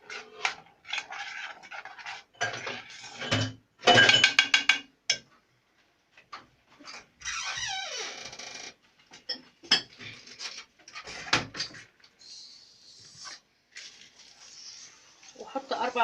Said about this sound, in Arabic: هقلبها بس شويه.